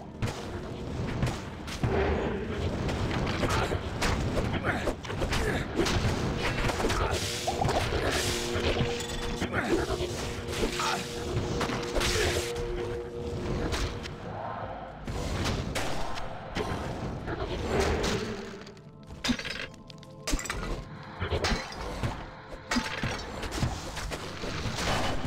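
Rapid, dense bursts of exploding bugs in Diablo 2 pile up one after another, loud and chaotic blasts and crashes, with occasional mechanical clanks.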